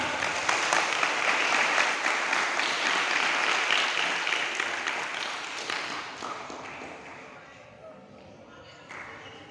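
Applause for a student at a karate grading event, a burst of clapping from a group that is loud at first and gradually fades, with faint talk as it dies away.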